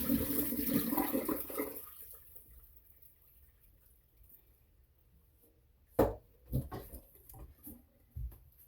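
Cold tap water runs over eggs in a pot, a steady splash that stops after about two seconds, followed by quiet and a few sharp clunks and knocks.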